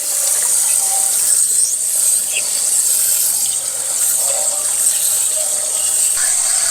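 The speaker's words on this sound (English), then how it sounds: "Look at all that brown water." Brown, sediment-laden water gushes steadily from the drain of an RV water heater, a continuous loud hiss and splash that stays even throughout with no pauses.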